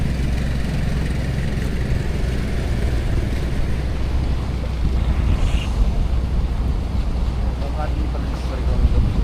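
Sea waves by the coast in Mindanao, with boats nearby, form a steady wash of surf and wind noise that stays loud and unbroken throughout.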